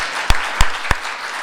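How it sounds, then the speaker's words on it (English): Applause from the audience at a library research week launch event, three sharp distinct claps spaced evenly apart over a soft crowd murmur. "can I ask you to clap for yourselves"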